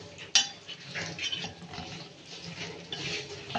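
Longganisa browns in a pan while a utensil stirs it, scraping and clinking against the metal over a soft sizzle, close and continuous.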